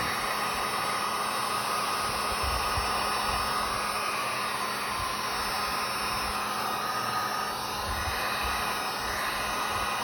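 A blower pushes air across a freshly poured resin flower cup, making a constant loud hiss of rushing air that holds steady throughout, with no voices.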